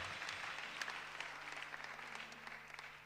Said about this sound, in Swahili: Nous applaudissons le Seigneur.